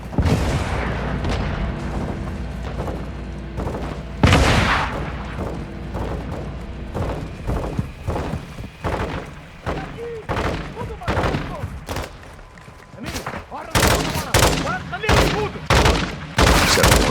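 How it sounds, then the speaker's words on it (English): Heavy rocket fire and rattling gunfire in the Call of Duty Modern Warfare II battle around a crash site, with repeated loud booms and dense bursts of shots, plus shouted radio-style voices over the combat. "Crash site is taking rocket fire from building 2!"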